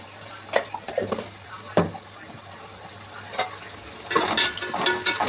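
Ginger garlic paste drops into a pan of frying curry with garam masala, giving a soft sizzle and scattered stirring scrapes, with a brief louder burst of frying near the end.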